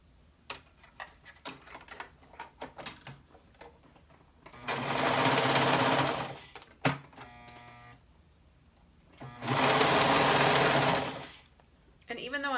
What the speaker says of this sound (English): then we will attach that with a 1/4 inch seam allowance